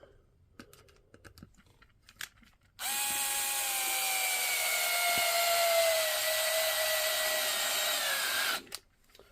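A Parkside 4V cordless screwdriver whirs close by in one long, steady run of about six seconds as it drives screws, preceded by scattered small clicks and handling taps.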